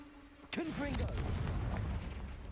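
A Confringo fire spell blasts in the video game Hogwarts Legacy: a sudden loud boom followed by a sustained rumbling roar for about two seconds, with a voice briefly over the start.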